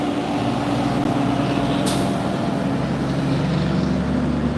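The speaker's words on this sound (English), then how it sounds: "Here's another dump truck coming out with some of that gravel here." A dump truck hauling gravel drives out of the SpaceX Starbase main gate area in Boca Chica, Texas, its engine giving a steady, loud broadband rumble that holds throughout, with a brief hiss partway through.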